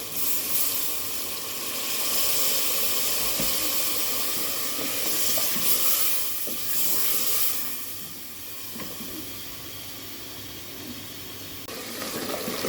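Water splashed into a pan of frying mutton being cooked for lauki gosht sends up a loud, continuous steam hiss and sizzle that fades slightly, then swells again.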